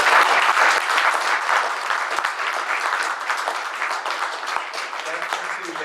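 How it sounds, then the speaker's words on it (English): An audience at a panel forum on green tips applauds the panelists, a full, sustained wash of clapping from many hands that tapers slightly toward the end. "Can you please give them a round of applause?"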